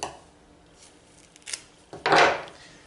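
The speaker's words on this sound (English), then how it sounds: "So go ahead and just cut these off here." Yucca leaves being cut off the plant, a few quiet snips and rustles followed by one louder, rasping cut, close by and without speech.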